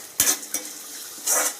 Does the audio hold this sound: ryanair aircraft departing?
no